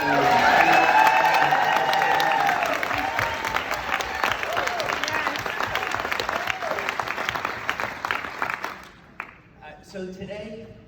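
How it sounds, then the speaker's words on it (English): Loud, sustained applause from a corporate event audience on a Saturday morning, dense clapping with a few whoops for about nine seconds before fading as a voice begins speaking. "could we have a nice round of applause for Dr. Stacy and Marshall and"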